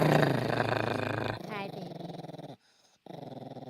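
A three-legged dog growls in a low, rumbling, sustained stretch that drops out briefly and then resumes, with people talking close by.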